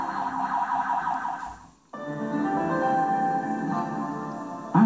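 A loud, close car alarm cycling through warbling electronic tones, breaking off briefly before starting up again in a steady pattern.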